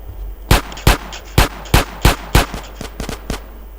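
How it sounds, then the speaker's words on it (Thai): Gunfire in the video game GTA DayZ: about ten sharp, loud shots fired alone in an uneven rhythm, some in quick pairs, over a low steady hum. "เนี่ยมาปืนเดี๋ยวกูยิงพร้อมกันอะ"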